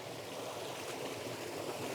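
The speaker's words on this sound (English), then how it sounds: "and this waterfall behind it as well" Water rushes and splashes continuously from a waterfall and stream in the Great Otway forest, forming a steady, full wash of sound with no voices.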